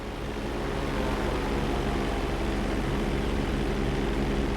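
Steady, loud airplane engine drone from a flight school session in the video game GTA V, an unbroken hum running throughout with no voices.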